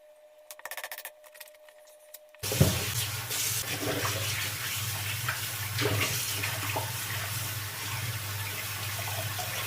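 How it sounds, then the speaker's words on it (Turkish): Tap water runs steadily into a cooking pot for chicken stew in an auto repair shop, a loud continuous rush starting after a few seconds of quiet clatter, with no talking. "Su ekleyeceğim."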